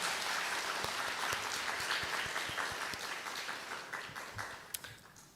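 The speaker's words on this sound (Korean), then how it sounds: "우리 두루두루 환영하는 박수" A church congregation applauds in welcome during a Sunday worship service, steady dense clapping from a crowd that gradually thins and fades toward the end, with a few louder individual claps near the close.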